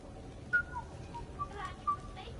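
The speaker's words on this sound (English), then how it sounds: "Are you whistling?" A character whistles a few short, faint tonal notes during a quiet party scene in the Mass Effect video game, with low background ambience and soft room noise.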